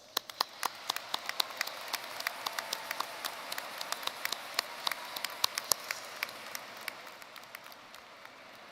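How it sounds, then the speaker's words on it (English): A large graduation audience at a university commencement applauds the graduates' families: a dense, continuous patter of many hands with occasional sharper claps, steady for several seconds before thinning out near the end. "Graduates, please join me in giving them a round of appreciative applause"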